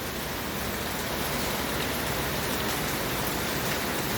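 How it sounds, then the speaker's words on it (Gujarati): Heavy monsoon rain pours steadily, a dense, constant hiss with no breaks or voices. "વરસાદ એટલો બધો પડે છે, તમને વરસાદ બતાવું, જોઈ લો."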